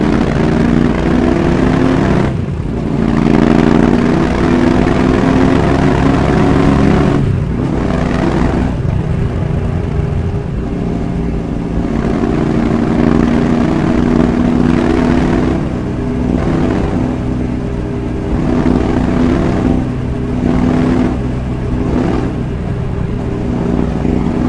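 A Royal Enfield Interceptor motorcycle is ridden at high speed, around 130, on a cold day in Bangalore. The engine drones loud and steady with rushing wind, and the pitch shifts slightly through the ride, with no voices.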